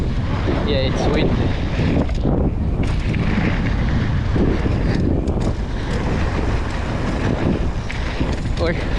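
Heavy wind roars across the microphone at a bike park, a steady loud buffeting that never lets up, with a few faint voices briefly breaking through.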